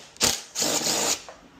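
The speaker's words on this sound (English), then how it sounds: "Drill some holes and connect to the bracket." A power drill bores holes for a bumper bracket on a 2023 Kawasaki Brute Force 750 ATV, giving a brief whir followed by a longer close burst.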